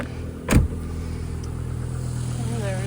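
The engine of a 1998 Volvo V70 with a throttle position sensor fault idles steadily and low, interrupted by a short loud burst early on, with a faint high whine toward the end.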